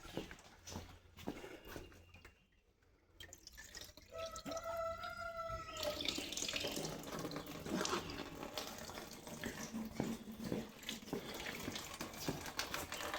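Engine coolant drains from a Kawasaki Versys-X 300 motorcycle during a coolant flush, making a steady splashing trickle of liquid into a container, preceded by brief drips and a short squeaky tone, close with no talk.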